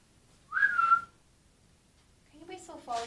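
A short rising whistle during a paranormal investigation at the Regent Cinema in Blackpool, heard alone in a quiet room, then followed a moment later by people talking.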